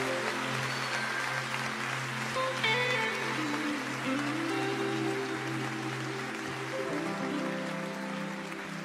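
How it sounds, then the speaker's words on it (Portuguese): A church audience applauds Jesus at a Christmas musical, a steady wash of clapping that runs the whole time beneath sustained keyboard or organ chords. "Você pode dar um aplauso a Jesus?"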